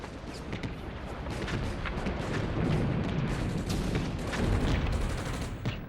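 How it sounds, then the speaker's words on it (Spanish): Dense, continuous First World War battlefield barrage of booming artillery and rattling machine-gun fire, loud and sustained with sharp cracks layered over a rumbling bed. "los campos barridos por las ametralladoras y los rápidos disparos de la artillería"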